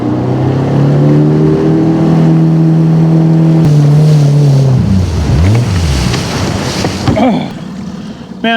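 A small outboard motor on a fishing boat at Merwin Reservoir runs loud and steady, then its pitch sags and wavers before a burst of water and wind noise near the end; no one speaks.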